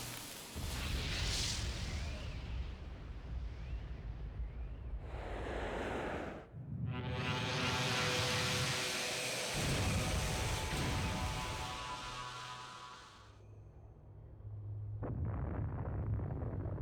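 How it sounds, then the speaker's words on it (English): A huge explosion in a video game destroys a cannon, a sustained roaring blast with a sharp break midway, then a bright rushing burst that slowly fades into a low rumble, loud and alone. "The explosion was too big."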